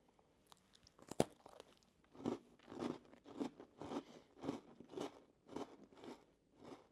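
A ginger nut biscuit is crunched and chewed close up, with one sharp snap followed by about eight rhythmic, crisp crunches at a steady pace, quiet overall with no talking.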